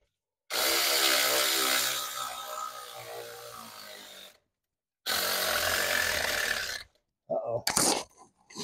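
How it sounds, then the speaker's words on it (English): A Bauer 3/8-inch impact wrench backs out bolts on a Pontiac engine's water pump and timing chain cover in three close, loud whirring bursts separated by short silences, the last one brief and choppy. "This is my 3/8 inch impact from Bauer as well"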